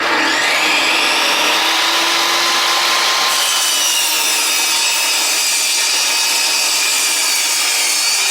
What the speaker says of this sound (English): I did just use a table saw because it makes it faster